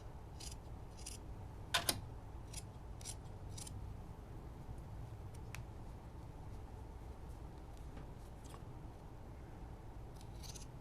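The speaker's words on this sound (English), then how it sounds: "I'm just going to go and trim the seam allowances off of here." Scissors snip through fabric while seam allowances are trimmed on a DIY scarf wrap, a few faint crisp cuts near the start over a quiet background hum.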